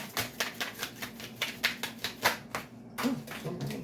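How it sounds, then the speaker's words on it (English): A deck of cards is shuffled by hand close up, with a run of crisp, evenly spaced slaps and flicks in a quick rhythm and no voice. "2 more shuffles and I'll pull from the top."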